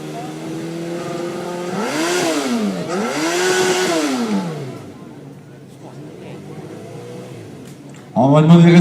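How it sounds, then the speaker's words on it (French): A motorcycle engine revs hard twice, rising and falling in pitch, then settles into a low idle before another engine roars up loudly at the end. "on peut démarrer les motos, pourquoi pas."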